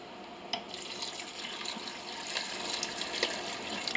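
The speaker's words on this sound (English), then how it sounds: "So what I'm going to do is add about 2 more cups of water." Water pours steadily into a pot of beef stew being prepared for canning, a close continuous splashing stream with a few small clinks and drips, no talking.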